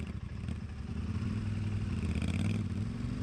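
Motorcycle engine revving steadily as it works its way through a rough, tough track, a continuous low rumble with some clatter, fairly faint and heard without talk.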